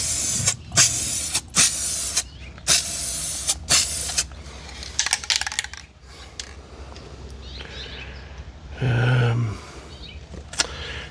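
Rust-Oleum spray paint is sprayed onto a 1967 Chevrolet Camaro in five short, loud hissing bursts close to the can, followed by quieter rustling and a brief louder burst near the end.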